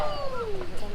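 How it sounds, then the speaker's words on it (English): A grito, the traditional Mexican shout, rings out as a high, wavering gliding cry that falls in pitch over about a second, loud over a busy crowd background. "It's called a grito, and it sounds something like this."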